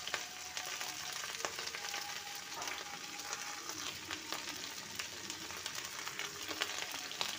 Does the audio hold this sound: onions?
yes